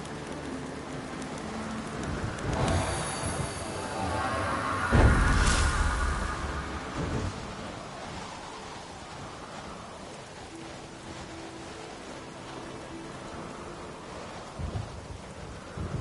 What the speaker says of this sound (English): It's a hell of a view from the island in a thunderstorm.